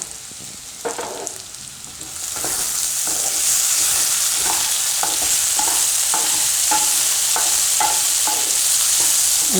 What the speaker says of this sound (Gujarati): વચ્ચે વચ્ચે હલાવતા રહેવું આ રીતે.